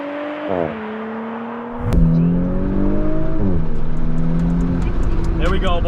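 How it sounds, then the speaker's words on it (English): Audi B9 S4 launching hard in sport mode with traction control off, engine note climbing loud and close through gear shifts with a strong rising rev, faint voices in the background. "this time we're gonna do launch control with sport mode, traction off."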